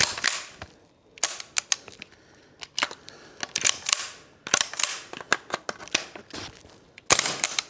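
WellPro AK12 gas blowback airsoft rifle firing, sharp loud cracks in quick bursts and single shots with short pauses between strings.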